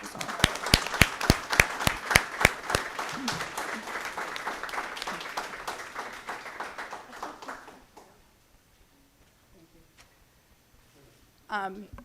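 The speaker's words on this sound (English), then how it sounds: "And a huge round of applause for Amy Peters." Audience applause at a school board meeting, loud sustained clapping with sharp individual claps that thins out and stops around eight seconds, then near silence before a voice begins to speak.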